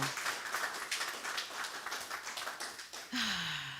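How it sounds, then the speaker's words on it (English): Audience applause at a musical service of message, music and meditation, a steady patter of claps filling most of the moment before a voice cuts in near the end. "Let's give them another round of applause."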